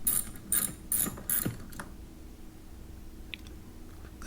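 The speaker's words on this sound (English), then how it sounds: "first I'll break them loose, and then I'll unscrew it with the socket extension" Sharp metallic ratcheting from a socket wrench on an extension, unscrewing the cabin air filter cover screws on a 2006-2013 BMW 328i E90. It comes in several quick close bursts, then goes quiet with a faint click near the end.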